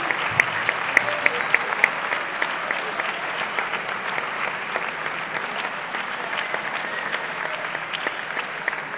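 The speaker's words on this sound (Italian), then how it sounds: "vorrei che vi uniste con me un applauso a chi poi ha organizzato questi FISF Doc per davvero" An Italian conference audience claps for the organisers of a life-sciences event, a dense steady round of applause from a crowd in a hall, with a few sharper claps near the start.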